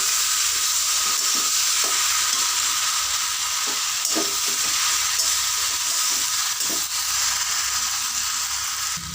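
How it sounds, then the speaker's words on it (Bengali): Fried lentil dumplings (bori) being stirred into cooked cabbage in a hot pan give a steady loud sizzle, broken up by scraping spoon strokes that come back at an irregular pace, with no voices. "এবার এর মধ্যে দিয়ে দেবো রান্না করে রাখা সবজিটা দিয়ে ভালো করে মিশিয়ে নেব"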